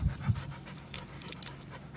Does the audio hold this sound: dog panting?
yes